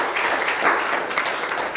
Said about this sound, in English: let's clap for that. Let's celebrate.